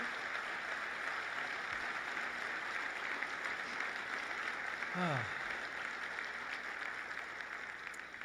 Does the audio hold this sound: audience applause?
yes